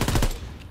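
Short, rapid burst of machine gun fire in the World War II shooter Call of Duty: WWII, loud and close, then dying away into a brief tail.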